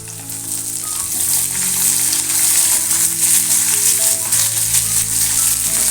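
Curry leaves sizzle and crackle loudly in hot oil while tempering for lemon rice, a steady frying hiss with a faint background hum.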